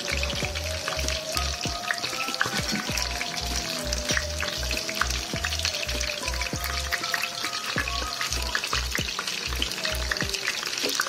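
Eggplant dish ingredients with red pepper, black pepper, parsley and salt sizzle and fry in a pan, with a constant crackling hiss and repeated scraping taps of a utensil stirring throughout.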